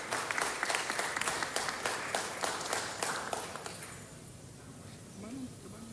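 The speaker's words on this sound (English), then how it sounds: "let's give them a round of applause" Applause from the audience at a Los Angeles city council meeting honoring Boyle Heights, dense clapping for about four seconds that thins and fades, with a voice beginning to speak as it dies away.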